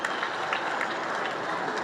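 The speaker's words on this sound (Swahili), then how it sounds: "Tumpe makofi tafadhali." An audience applauds at an air show, a dense, even wash of clapping from a crowd lasting the whole short stretch.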